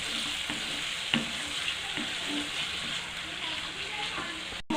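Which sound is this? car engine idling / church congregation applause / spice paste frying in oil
spice paste frying in oil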